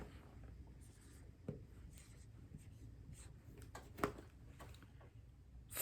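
A pencil scratching and scribbling on paper while decimal numbers are written out, faint soft strokes at close range with a few sharper taps, and no speech.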